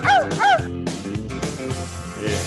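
Dog barking and yipping in short bright bursts, two quick barks up front followed by scattered yaps over a busy background with a voice.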